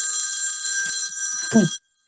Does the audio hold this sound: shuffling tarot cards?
no